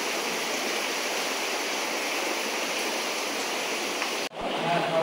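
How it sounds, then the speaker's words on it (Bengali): Water inside Siju Cave, where the whole path ahead is flooded and people wade through it, makes a steady, close rushing wash that briefly drops out before resuming. "পুরো জলের ওপর দিয়ে কিন্তু আমরা এখন যাচ্ছি। পুরো রাস্তা সামনে জল।"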